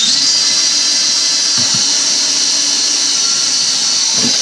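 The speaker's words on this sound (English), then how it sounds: "we'll just take and drill a 3/16 inch hole" A small drill press boring a 3/16 inch hole, giving a steady, loud high-pitched whine with a few brief low thumps as the bit bites, running continuously with no talking.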